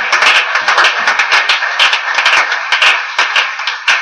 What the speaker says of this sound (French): Applaudissons encore le Seigneur.